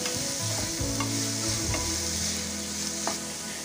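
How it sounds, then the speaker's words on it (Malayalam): Chopped green chillies stirred in a hot pan with oil, a continuous loud sizzle with a few scraping strokes of the spoon, close up and uninterrupted, no talking. "നന്നായിട്ടൊന്ന് ഇളക്കി മിക്സ് ചെയ്തെടുക്കുക."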